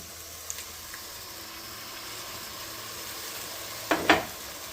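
A steady soft sizzle from a hot pan of garlic, then near the end two quick splashy bursts as canned tomatoes are poured in for Sunday gravy.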